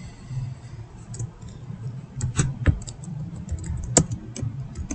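Scattered keystrokes on a computer keyboard, a few sharp isolated clicks standing out over a low background hum, irregular and fairly close, with no one talking.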